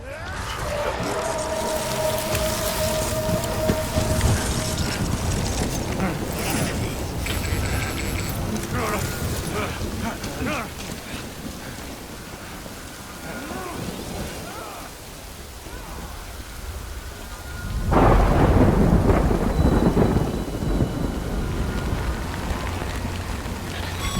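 Rain and thunder in the video game Death Stranding: steady heavy rainfall hiss throughout, with a deep rumbling thunder swell partway through, mixed under game voices and effects.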